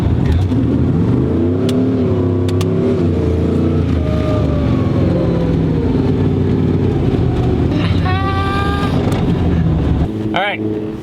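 A Jeep Comanche truck engine revs loud and close on a dyno, its pitch climbing and sweeping toward a 6,500 RPM rev limiter, with voices talking over it near the end.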